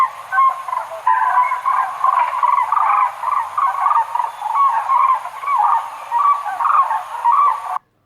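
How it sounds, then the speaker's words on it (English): A crane calls repeatedly in a steady series of loud, bugling honks, close and continuous for several seconds with no other sounds. "Crane."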